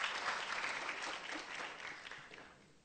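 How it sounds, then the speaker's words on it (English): A crowd applauds steadily, a dense wash of clapping that gradually fades toward the end. "a warm round of applause for our president, Dr. Olivas."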